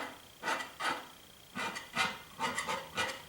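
Short rough scraping strokes of a tool dragged through paint on a landscape painting to suggest branches, about eight quick rasps in an uneven rhythm, close and fairly quiet with no talk.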